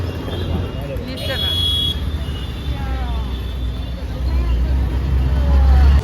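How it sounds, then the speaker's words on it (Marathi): Steady road traffic with car and bus engines rumbling nearby, a constant drone that grows louder toward the end, with distant horns and people talking over it. "ट्रॅफिक आहे"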